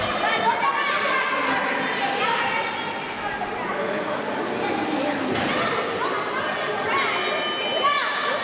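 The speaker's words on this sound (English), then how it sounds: "Bell has rung. We are underway." A bell rings to open a championship wrestling match, sounding late and fairly faint beneath continuous commentary and crowd chatter in a busy arena.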